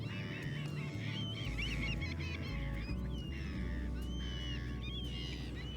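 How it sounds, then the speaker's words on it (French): Seagulls call overhead in a loud outdoor setting, their harsh, honking cries overlapping continuously over a steady low rumble, with no talking. "Comme dirait l'autre, vos gueules les mouettes."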